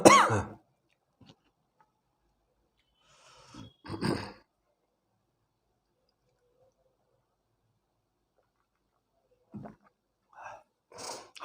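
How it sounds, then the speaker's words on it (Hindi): Short throaty cough bursts from a student in an online physics class, a loud one at the start, another pair a few seconds later and a couple of faint ones near the end, separated by long silent gaps. "खांसी आ गई बेटा?"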